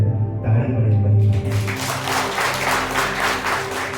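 A church congregation breaks into loud applause in praise of the Lord during a sermon. It rises out of a sustained tonal sound and carries on as a steady, full wash of clapping.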